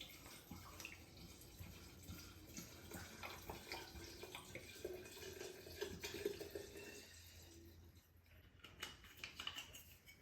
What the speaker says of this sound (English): we're going to take our alcohol and we're going to pour it over the lemon peels